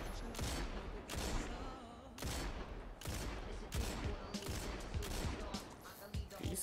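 Rapid video game gunfire crackles in dense bursts throughout, one volley after another at close range, with a voice talking briefly in between.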